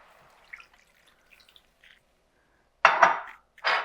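Milk poured into a pan on the stove for a creamy green bean dish, a faint clink and drips followed by two louder splashing, gushing bursts of liquid.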